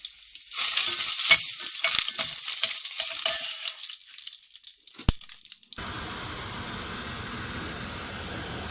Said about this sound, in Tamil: அதில் வந்துட்டு நான் காஞ்ச மிளகா போடுறேன்.